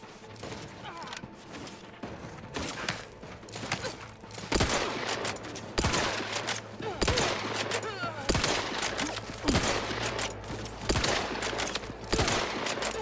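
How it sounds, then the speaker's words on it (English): Distant enemy gunfire in Outer Worlds 2, repeated bursts of shots cracking over a steady low hum throughout, moderately loud with irregular rhythm and some voice in the background. "Man, they're shooting from so far away."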